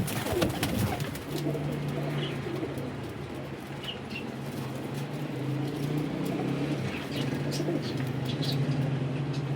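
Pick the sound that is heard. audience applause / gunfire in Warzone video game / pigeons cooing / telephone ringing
pigeons cooing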